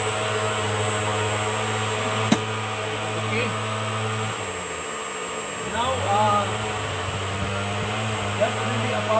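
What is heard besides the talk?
fan motor running on the gear driven generator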